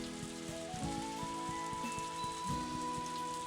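Rain falls steadily in Story of Seasons: A Wonderful Life, a soft continuous patter beneath a gentle sustained musical tone, faint and even throughout with no talk.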